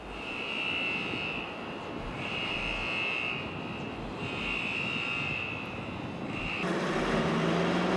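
Steady aircraft engine drone at an airport, a continuous broadband roar with a whining tone that swells and fades in waves, growing louder and fuller toward the end.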